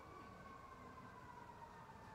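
Sirens from ambulances and police vehicles wail outdoors as a steady, faint tone, far off and continuous, with no voices over it.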